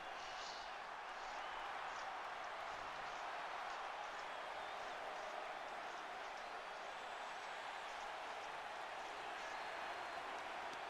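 A dense, steady roar from a large arena crowd in the WWE 2K25 wrestling game during a WrestleMania face-off, cheering and applauding continuously at high level with no pauses.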